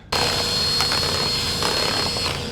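A loud, steady high-pitched whine of a power mixer mixing drywall compound, running continuously, close up, with a constant droning hum underneath.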